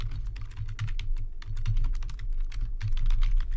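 Steady typing on a computer keyboard while writing into a Google Doc, a fast continuous patter of key clicks over a low background hum, fairly close.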